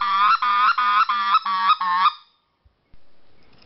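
A hand-operated turkey call makes a rapid run of six loud, honking clucks in a quick steady rhythm, close to the listener, then stops abruptly before a faint rustle.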